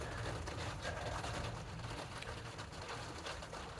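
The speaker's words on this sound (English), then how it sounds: "More rain." Steady rain falls outdoors in Japan, giving a continuous hiss of drops on surfaces with no voices over it.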